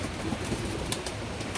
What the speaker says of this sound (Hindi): ये जाग कबूतर है भाई